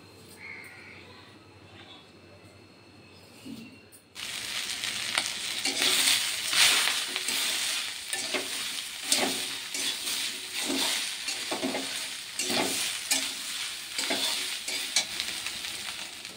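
Soybean and potato curry frying in a pan, a quiet hum giving way abruptly to loud sizzling with repeated scraping strokes of stirring in a steady rhythm.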